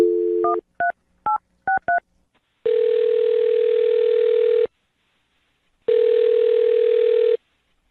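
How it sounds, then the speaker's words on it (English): A telephone dials a quick run of touch-tone beeps, then two long, loud ringback tones separated by a pause sound from a radio studio phone line. "I'm going to dial her phone number right now."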